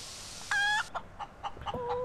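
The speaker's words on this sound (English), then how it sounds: "Why did I stop it with a chicken?" A chicken in the space-survival game Breathedge clucks in short, clipped calls, with a bright synthetic tone at the start and scattered sparse clucks afterward.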